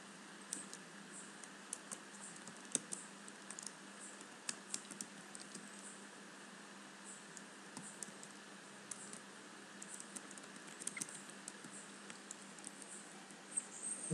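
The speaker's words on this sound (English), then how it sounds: "Now typing" Steady tapping on a computer keyboard while setting text in Photoshop, a quick irregular patter of light clicks close by over a faint steady hum, with no talking.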